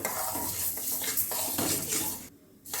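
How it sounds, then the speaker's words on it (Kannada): Semolina and moong dal are dry roasted in a pan, with close, repeated stirring and scraping of a utensil against the pan and a faint sizzle, then a short pause near the end. "ಇದನ್ನು ಡ್ರೈ ರೋಸ್ಟ್ ಮಾಡ್ಕೊಳ್ಳೋಣ ಫಸ್ಟು"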